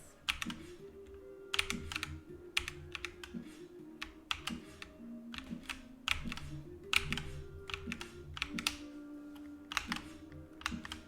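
Computer keyboard keys tapped during video game playtesting, quiet close clicks in irregular clusters and bursts, with faint game music running underneath.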